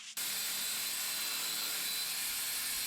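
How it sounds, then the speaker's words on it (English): A drill bores a hoist hole through rebar during a workshop build, giving a loud, steady grinding roar that starts abruptly and runs without pause. "This is just drilling one of the holes for the hoist"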